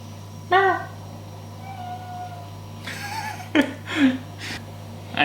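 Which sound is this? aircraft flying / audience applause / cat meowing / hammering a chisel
cat meowing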